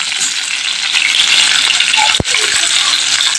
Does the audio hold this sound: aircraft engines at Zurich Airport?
no